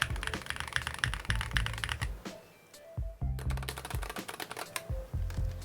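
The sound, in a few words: typing on Epomaker HE75 plastic keyboard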